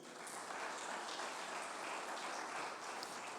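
A church congregation applauds during an evening service, a soft, even wash of many hands clapping that carries on without a break, faint and somewhat distant.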